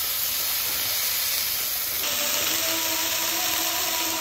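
Cauliflower fries in a pan with a continuous loud sizzling hiss, steady and close, shifting slightly midway.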